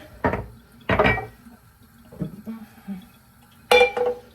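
Short bursts of running tap water as something is rinsed, with clinks of dishes between the gushes, close by.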